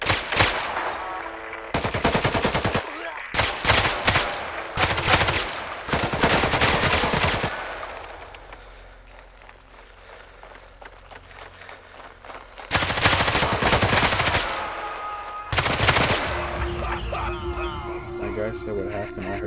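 Gunfire in the Roblox game Hellmet: loud rapid automatic bursts and repeated shots in several clusters with a quieter gap midway, mixed with players' voices talking over the action.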